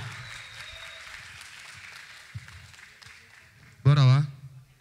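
A crowd at a beat competition elimination claps and cheers under ongoing talk, followed by a loud, brief burst of voice near the end.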